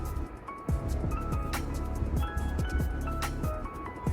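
Kadai paneer gravy stirred with hot water in a pan, giving wet squishing and sloshing strokes that repeat steadily at close range with light drips.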